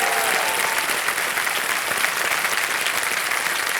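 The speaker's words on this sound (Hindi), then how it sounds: "तो एक बार फिर तालियां बजाएं" A studio audience at a televised quiz show claps in a dense, sustained burst of applause that stays steady and close for the whole stretch.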